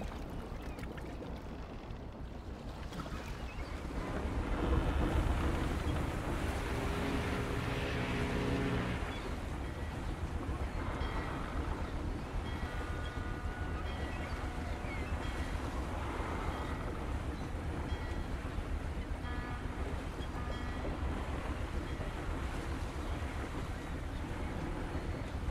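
A boat sailing on the sea in the game Throne and Liberty, a steady rushing wash of water and wind that swells briefly early on, then holds even, with faint tonal music layered underneath.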